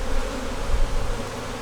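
Honeybees swarming around a farm hive, a dense, steady, close buzz filling the air continuously with no voices.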